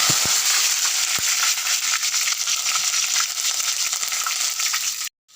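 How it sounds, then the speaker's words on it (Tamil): Mustard seeds and curry leaves crackle in hot oil for a brinjal thoran, a loud, dense, continuous sizzle with fine popping that cuts off abruptly just before the end. "எண்ணெய் காய்ச்சதும் கடுகு போடணும். கடுகு போட்டுனதும் கருவேப்பிலை போடணும்."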